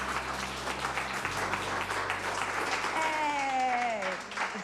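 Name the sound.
group applause for Nichols' three-year chip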